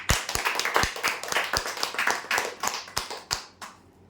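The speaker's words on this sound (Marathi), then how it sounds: "यांच्यासाठी जोरदार टाळ्या" A small crowd claps for a prize winner at a weekly lottery draw. Loud, uneven hand claps run together for several seconds and thin out toward the end, with no talking over them.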